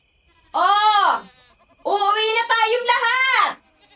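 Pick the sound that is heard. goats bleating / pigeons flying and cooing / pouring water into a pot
goats bleating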